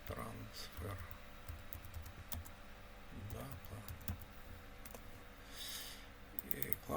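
Typing on a computer keyboard, scattered quick key clicks that come in short bursts while someone talks over them.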